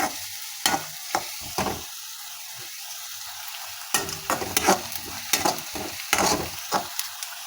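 Onions sautéing in a pan over low gas until golden brown for a dhaba-style potato and pea curry, with a steady soft sizzle broken by repeated scraping stirs of a spoon, close and fairly loud.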